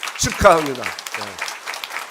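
A church congregation at a Sunday service claps in encouragement for members finishing a Bible course. Someone speaks briefly over the start of the steady, moderate applause.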